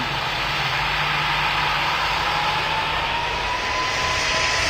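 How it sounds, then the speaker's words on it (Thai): An airplane jet engine roars loud and steady as the aircraft takes off, a broad continuous rush holding through the whole stretch with no talk. "ท่านผู้ชมเครื่องเครื่องบินออกไปแล้ว"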